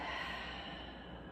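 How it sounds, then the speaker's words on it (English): A long, steady exhale of deep breathing during a gentle yoga flow, close and breathy, filling the short moment with no voice over it. "One more time, big breath in. And out."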